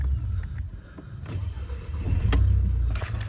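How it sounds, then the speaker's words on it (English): A petrol Audi A3 1.8 TFSI hatchback engine runs with a steady low rumble, close by and moderately loud, with no talking. "Starts up lovely"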